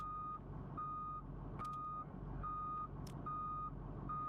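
Reversing beeps from a bus in the Desert Bus VR video game, a steady series of evenly spaced electronic beeps over a low engine rumble, with a couple of faint clicks.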